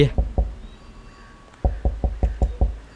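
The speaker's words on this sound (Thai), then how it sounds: "ใครมาเคาะประตูเวลานี้เนี่ย" Knocking on a door in the video game Cursed Enigma: two quick knocks, a pause, then a rapid run of about six evenly spaced, heavy wooden raps, close and clear over a hushed background.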